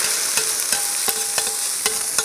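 Hot oil poured over scallions, minced garlic, dried chili, Sichuan pepper and white sesame on a fish dish, giving a steady loud hiss with light rhythmic crackles and stirring taps, no talking.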